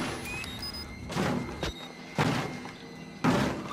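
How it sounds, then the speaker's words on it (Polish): In the horror video game Outlast, an enemy bangs on a door: three heavy thuds spaced roughly a second apart, loud and close over low background ambience, with no talking. "on chyba ten się nie przedostanie tej, tej wali tymi drzwiami"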